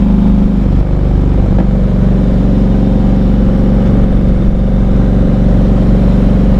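A motorcycle engine drones steadily while riding, a loud low exhaust rumble with wind noise, continuous and close, no voices.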